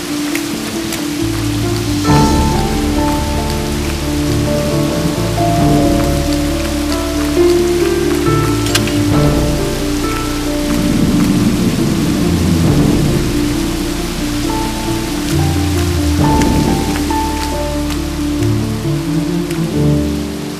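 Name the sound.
heavy rain pouring with thunder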